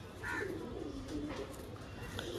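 Pigeons kept for flying coo softly at close range, a low, throaty repeated call with faint rustling and no talk over it.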